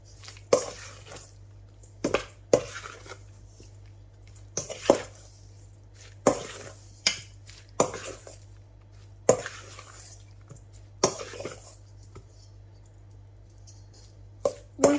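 Chopped garlic gets stirred into a chicken tikka marinade in a bowl, making irregular wet squelching and scraping strokes with short close bursts separated by quiet pauses, over a low steady hum.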